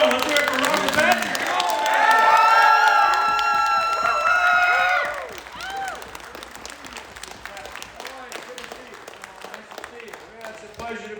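Convention panel crowd clapping and cheering loudly with shouts and whoops for the first few seconds, then dropping to lighter scattered clapping under voices.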